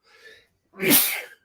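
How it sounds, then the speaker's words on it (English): A single loud, close sneeze bursts out after a brief quieter breath, a sharp explosive release that trails off quickly with nothing else around it. "Get those devil sneezes out of you."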